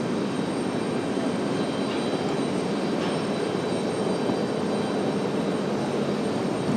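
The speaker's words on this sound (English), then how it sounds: "We have a JetBlue headed out for departure." A JetBlue Airbus A220 jet taxis out for departure, its engines giving a steady, continuous broadband roar at moderate distance with no change in level throughout.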